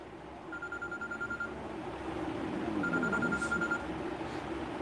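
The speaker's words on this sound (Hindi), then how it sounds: "यार एक मिनट मैं एक फ़ोन उठाना पड़ेगा मुझे," A telephone rings in two electronic bursts, the first about a second long and the second after a short pause, fairly faint over a soft background in a room.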